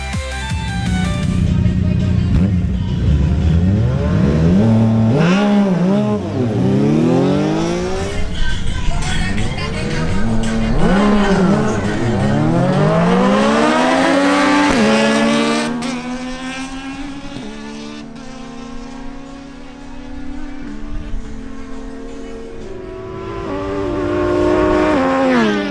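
Kawasaki Ninja Z1000SX and Yamaha MT-09 motorcycles race, their engines revving loudly with rising and falling pitch through repeated gear shifts, passing close, fading briefly, then building again, with wind buffeting the microphone.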